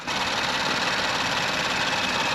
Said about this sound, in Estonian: Väike klipp töötava mootoriga ka.